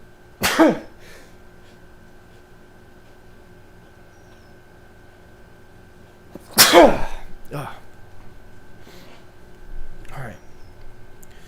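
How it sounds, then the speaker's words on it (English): A sharp, loud sneeze bursts out, followed by a couple of fainter sniffs and breathy sounds in an otherwise quiet room. "Gotta sneeze, excuse me."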